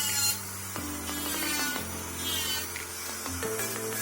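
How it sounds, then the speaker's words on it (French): Electric nail file sanding down the length of a gel nail, a steady motorized whir with pitch shifts as pressure changes against the nail, close and alone with no talking. "On va attaquer la troisième avec la ponceuse du coup."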